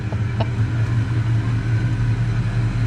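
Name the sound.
1990 Ford Mustang engine running as it drives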